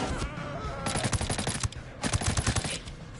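Gunshots in the video game Ghost Recon Breakpoint, two dense rapid bursts of fire with a short pause between, loud and close.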